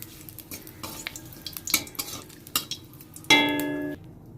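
A bay leaf and dried red chili drop into very hot mustard oil for tempering, giving a light crackling sizzle broken by several sharp clinks of a utensil against the pan and a ringing metallic knock near the end.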